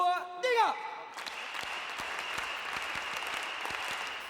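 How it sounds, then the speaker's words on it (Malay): Large stadium crowd at a corporate awards night clapping a rhythmic cheer after a spoken countdown, steady patterned claps with a sustained high tone over the crowd, moderately distant; a voice speaks briefly at the start. "mari kita sama-sama buat tepukan semangat Elkan"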